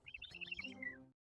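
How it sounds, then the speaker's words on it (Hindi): A small bird chirps in a tree, giving a quick faint run of high tweets for about a second before the sound stops. "चिड़िया पेड़ पर चहचहा रही थी।"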